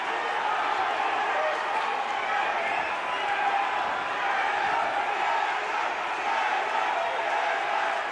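A crowd at an MMA fight roars and cheers as a steady, dense wash of noise throughout, with a voice talking over it.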